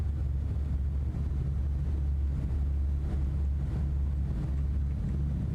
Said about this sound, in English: What happens if I go forward to the front of the engine? Does the sound change?